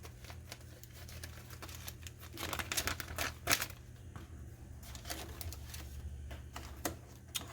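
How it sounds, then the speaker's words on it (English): A plastic plate is pushed into a Ziploc bag with close crinkling and rustling plastic, scattered crackles and a louder burst midway, over a low steady hum. "And then I'm going to stick this inside the Ziploc bag."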